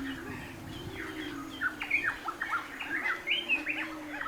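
Birds chirp and whistle in a mangrove rainforest, with bright overlapping calls that grow busier after the first second, set against a steady low hum of background ambience.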